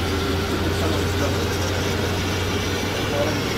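Bus engine of a Muji Jaya bus rumbling in a steady, loud low drone throughout, with no clear rise in revs, and faint voices and road noise mixed in.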